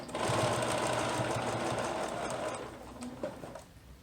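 A sewing machine runs steadily, stitching the straps of a baby jumper, its motor whirring continuously up close before slowing and stopping near the end.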